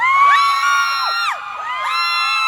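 Crowd of fans at an evening Samsung event screaming and cheering, loud and close, with sustained high-pitched shrieks rising and falling in overlapping waves.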